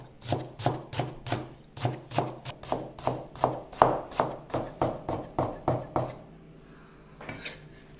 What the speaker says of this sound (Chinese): 我把酸菜切出来炖豆腐